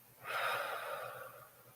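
A single slow, soft exhale of breath during a calm breathing exercise, airy and close, swelling then fading over about a second with no talk.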